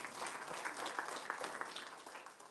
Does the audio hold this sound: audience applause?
yes